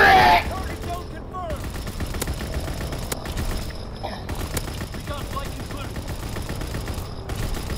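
Ball turret machine gun in Call of Duty: WWII rattling in a sustained burst of rapid fire across the whole stretch, loud and close, with a short voice at the start and faint game effects mixed in.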